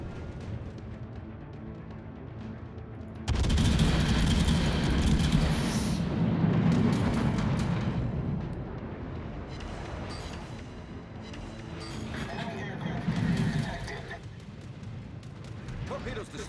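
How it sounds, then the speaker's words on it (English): Anti-aircraft guns on a supership in World of Warships roar as a dense, rumbling barrage that swells loudly after a few seconds, fades slightly, and surges again near the end, with game voice lines over it. "Anti-aircraft gun crews are on full alert."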